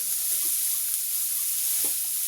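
Chopped onion and ginger sizzle in a hot pan with a steady, close hiss that runs throughout, with a few faint clicks and pops underneath.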